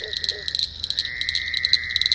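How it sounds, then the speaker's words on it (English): Frogs croak nearby outdoors in a steady, dense chorus of rapid pulsing calls with a continuous insect-like trill underneath, fairly close and constant throughout. "these frogs are right beside us"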